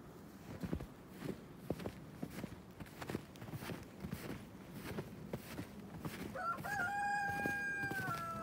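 Footsteps and scuffling shuffle along through snowy brush amid faint hen clucks, then a rooster crows loudly and drawn out near the end.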